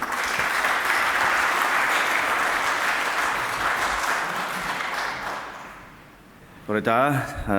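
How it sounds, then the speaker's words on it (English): Audience applause fills a presentation venue at a Belfast Challenge Fund event, a dense sustained wash of clapping that slowly thins out, followed by a voice starting to speak. "But round of applause for Adrian, please, everyone."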